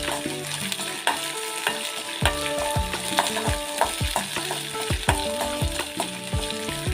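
Coconut and dried red chillies are sautéed in a pan for a ridge gourd stir-fry, a steady close sizzle punctuated by frequent rhythmic stirring scrapes and light clinks.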